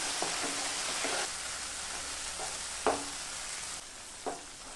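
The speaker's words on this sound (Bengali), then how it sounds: "এখন দেব কাজু বাদাম বাটা তারপর আবার ভালো করে কষাতে থাকবো" Spice paste and cashew paste being stir-fried in a pan: a continuous close sizzle with a few scraping strokes of a spoon, no voices.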